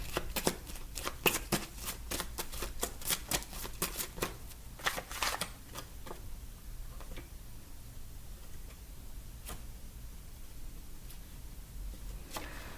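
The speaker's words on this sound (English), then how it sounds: "Okay, do I shuffle?" Tarot cards are shuffled close up in quick riffling bursts, followed by quieter, occasional flicks and taps against a soft background hum.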